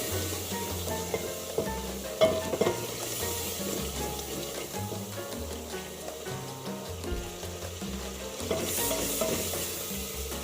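Masala with turmeric powder sizzling and frying in a pan while a spoon stirs and scrapes, steady crackle with occasional louder clinks, no voices.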